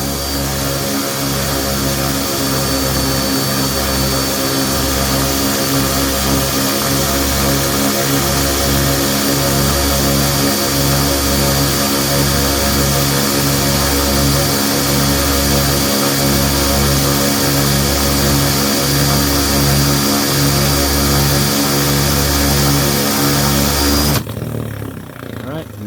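A tire foam roller breaking in new RC tire foam inserts runs loud and steady, a heavy rhythmic machine drone with regular pulsing throbs that continues unbroken until it cuts off near the end.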